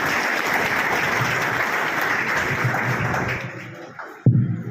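A room full of people at a coaching institute function claps loudly in thanks to a guest, a dense, sustained burst that fades out near the end, followed by a short knock or handling thump.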